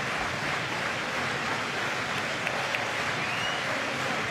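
A football stadium crowd at a Midtjylland home match in Jutland cheers in the rain, heard as a steady, distant wash of noise with no clear peaks.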